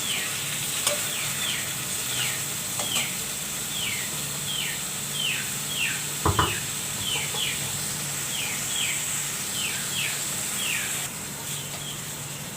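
Yogurt-marinated chicken for korma sizzles steadily in a pan while a spoon scrapes and stirs it in quick, regular strokes, close up with no voices.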